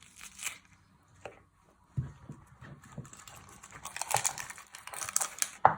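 An onion is trimmed and peeled by hand in a kitchen, with scattered dry crackling and tearing of papery skin, intermittent and close, growing busier toward the end.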